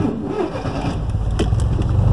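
A car engine turns over and revs as it pulls off in first gear without the clutch, a loud close mid-pitched engine rumble rising slightly over two seconds, with no talk.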